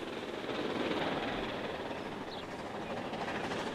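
British Rail Standard Class 7 Britannia steam passenger locomotive in Transport Fever 2, giving a steady, dense rumbling rush of a train in motion that holds at an even loudness throughout, with no talk over it.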